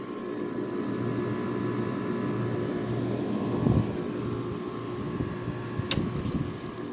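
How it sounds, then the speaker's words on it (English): A Haier air conditioner compressor hums steadily up close, a constant low drone with fan whoosh, broken by a brief thump mid-way and a sharp click near the end. "Compressor calm down. So yep, it's running."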